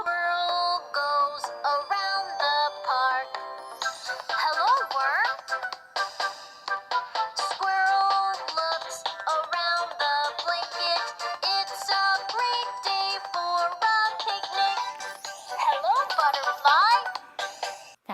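A bright, tinny children's song plays through a small electronic book pen speaker, with a cheerful melody and a singing voice throughout.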